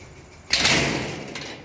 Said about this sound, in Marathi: तर आता दरवाजा बंद करतो आहे